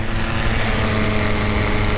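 Small aircraft engine droning steadily in flight, a loud continuous tonal hum with wind noise, no pauses across the whole span.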